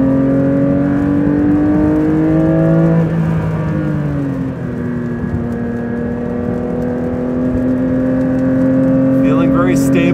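Porsche 911 S/T flat-six with a lightened flywheel revs hard toward its 9,000 RPM redline, a loud, steady rising engine note with harmonics climbing and dipping between gears, close and sustained throughout with a voice over it.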